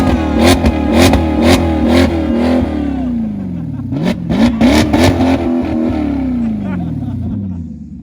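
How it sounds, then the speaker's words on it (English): Maserati GranTurismo MC S on its stock exhaust revs hard in repeated blips close to the microphone, rising and falling in pitch before a longer sweeping rev and a settling idle. "this is the grumpiest a Maserati is ever gonna sound"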